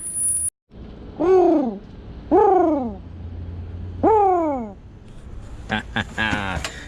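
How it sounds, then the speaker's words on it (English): Three drawn-out, descending owl hoots ring out loud and close, spaced about every one and a half seconds, followed by a few sharper chirping calls at the end, around a brick house under repair. "Yeah, we got our mascot owl."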